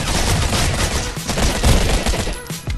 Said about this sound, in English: Shoot me right through the fucking pillar